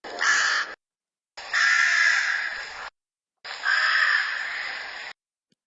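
A big black rook caws three times, harsh and loud, each call long and rasping with short silences between, close up and with no voices over it.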